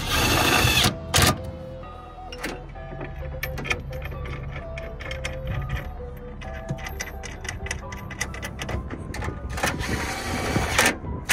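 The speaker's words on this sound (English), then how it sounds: "With the bottom bolt tight, now it is time to tighten the top bolt." Rapid ratchet clicks come in bursts while 10 mm clamp bolts are tightened on the bed rail of a soft truck topper on a Jeep Gladiator, close and moderately loud with a few sharper knocks.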